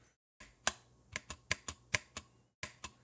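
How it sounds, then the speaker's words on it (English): Keyboard spacebar presses on a mechanical keyboard during a live stream, about ten sharp clacks in an uneven rhythm, close and fairly loud, each a crisp thock with a short tail, alone after a brief silence. "Spacebar sounds here."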